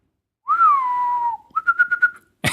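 A person whistles in imitation of a groundhog's mating whistle, first one long sliding note and then a quick run of five short chirps. The whistling is clear and close, with no talk over it.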